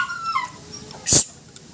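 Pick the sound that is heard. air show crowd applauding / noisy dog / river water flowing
noisy dog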